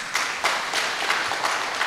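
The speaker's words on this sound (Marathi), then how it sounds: "एक गणेश टाळी वाजवली." Applause from a church congregation during a sermon, a short burst of crowd clapping with a few sharper individual claps standing out over the steady patter.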